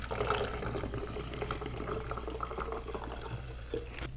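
Film developer, a DIY monobath for black and white processing, is poured out of a developing tank, giving a continuous splashing liquid pour at close range that runs without a break and has no talk over it.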